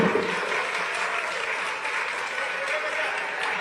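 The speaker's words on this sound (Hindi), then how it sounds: "आप सबकी प्रणाम रूपी तालियों के साथ।" A crowd claps continuously at an outdoor inauguration of a newly built tehsil office in Bahraich, a thick, sustained round of applause from many people with a slight swell at the start and faint voices mixed in.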